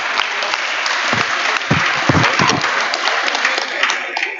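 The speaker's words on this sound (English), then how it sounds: "Some final applause for Johan." Audience applause closing a talk on the Arctic, a dense steady roar of many hands clapping throughout, loud and sustained with no speech over it.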